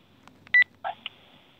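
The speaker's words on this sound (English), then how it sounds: "I'm calling Storm now." Telephone keypad dialing tones placing a conference call: a few short, clear DTMF beeps in quick bursts with brief gaps, close and distinct over near silence.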